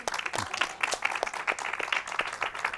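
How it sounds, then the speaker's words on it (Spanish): Moderately faint audience clapping after the introduction at a lecture on the virtues of Roman republican women, scattered claps merging into a loose, uneven round of applause. "Aplaudir, ¿no?"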